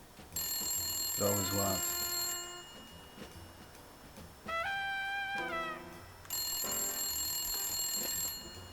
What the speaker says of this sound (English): When the phone rang, I knew it was going to be trouble.